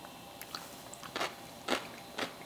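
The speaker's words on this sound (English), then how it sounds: "I don't know if you're going to hear that, but there's a little bit of crunch, which is perfect." Homemade pickled vegetables are bitten and chewed close up, producing several sharp crisp crunches at irregular intervals over a quiet background.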